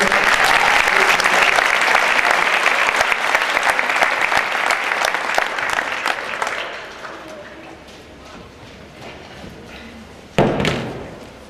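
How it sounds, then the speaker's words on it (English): Full audience applause for a horn player at a winter school band concert, sustained for several seconds and then thinning out. It is followed by quieter room noise and a sharp thud near the end. "more round of applause for Skylar Atkinson on the horn"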